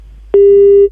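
A steady electronic busy tone follows a disconnected phone call, one loud, clear, sustained beep lasting about half a second, alone against faint background hum.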